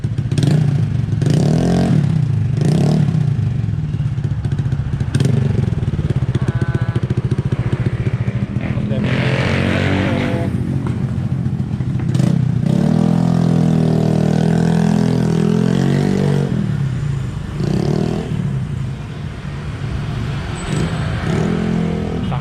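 Honda Click 125 scooter engine revving during an exhaust pipe test, with loud repeated throttle blips and sustained revs close by, mixed with people talking.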